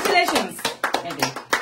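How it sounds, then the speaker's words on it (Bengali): A small group claps hands in congratulation at a wedding-related family gathering, with a handful of sharp, uneven claps mixed in with lively chatter close by. "হাততালি দাও। হাততালি হাততালি হাততালি।"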